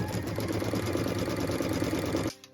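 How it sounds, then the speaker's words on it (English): An embroidery sewing machine stitching out centering crosshairs, a loud close rapid mechanical chatter that runs steadily and then stops abruptly. "it is time to return to our machine and stitch out those centering crosshairs again"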